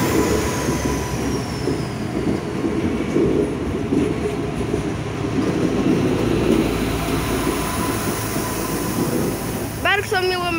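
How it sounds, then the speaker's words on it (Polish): A Polregio Rega passenger train departs Kołobrzeg station, its rumbling wheels and rolling clatter loud and steady, with a sharp squeal of wheels on rail near the end. "Proszę, odjazd Pol Regio Rega."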